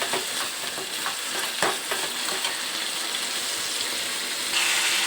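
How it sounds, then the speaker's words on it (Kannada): Food fries and sizzles steadily in a pan while a utensil stirs and scrapes it in irregular bursts, close and continuous with no talking. "ಎಲ್ಲ ಚೆನ್ನಾಗಿ ಫ್ರೈ ಮಾಡ್ಕೋಬೇಕು ಹಸಿ ವಾಸನೆ ಹೋಗೋರು"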